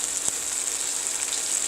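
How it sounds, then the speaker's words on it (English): A burger patty fries in a pan with a steady, close hiss of sizzling fat, constant and fairly loud, with no voices. "we're just going to let that one fry up"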